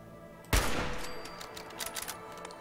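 A sharp, loud gunshot from the video game Fallout 4 cracks out, followed by a ringing tail and a few quieter clicks and pops.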